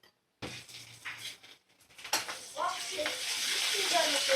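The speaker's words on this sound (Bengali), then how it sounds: "মশলাটা ভালো করে কষিয়ে নেব।" Spice paste with salt, ginger-garlic and cumin hitting a hot pan for egg biryani, starting as faint clinks and quickly building into a loud, continuous sizzle with stirring, and a voice briefly heard over it.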